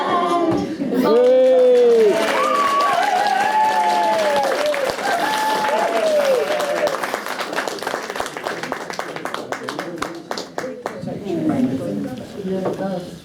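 Applause from a senior citizens' club audience at a Christmas gathering after a singer finishes, a dense crowd of claps rising over voices and chatter, then thinning into scattered claps and talk.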